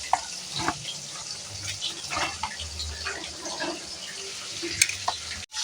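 Eggplant slices frying in hot oil, a steady close hiss and sizzle running throughout with a few faint utensil knocks.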